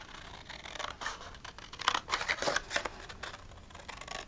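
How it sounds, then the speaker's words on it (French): Scissors snipping paper for a small handmade gift box, a run of quiet close crisp cuts and rustles that grows busier in the middle, with no talk. "Et ça, on va couper."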